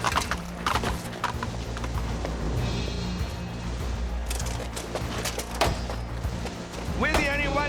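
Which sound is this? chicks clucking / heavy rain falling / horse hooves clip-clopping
horse hooves clip-clopping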